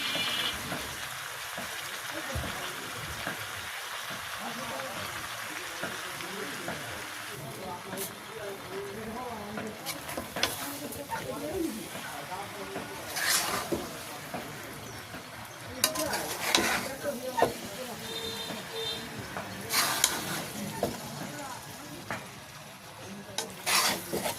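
Vegetables and raw-ripe tomato fry and get stirred in a pan in a village kitchen, soft sizzling under repeated scraping and clinks of a utensil against metal, with a voice talking over it.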